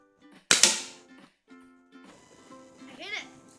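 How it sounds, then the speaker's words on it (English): A pellet gun fires once at a tin can set about 15 yards away, making a sharp close crack followed by a brief ring, with a voice and other chatter around it. "shooting the tin can from about 15 yards"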